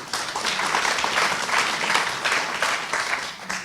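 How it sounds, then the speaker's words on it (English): An audience after a show breaks into loud, dense applause, a steady wash of many hands clapping that fills the whole moment without letting up. "I need to wait for them claps tonight."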